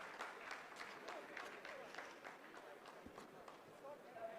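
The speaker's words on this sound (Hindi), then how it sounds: "आप इस तालियों के गड़गड़ाहट को सुन सकते हैं" Scientists applaud at mission control during the Chandrayaan-3 lunar landing, a faint, distant patter of sustained clapping with voices talking over it.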